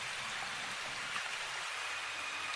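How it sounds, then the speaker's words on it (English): Steady rain falls in an even, dense hiss with no pauses or distinct drops, fairly soft and continuous, with no voices. "Mr. Flint, you'll fall sick when being in the rain."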